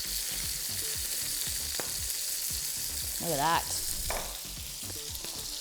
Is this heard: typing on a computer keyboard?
no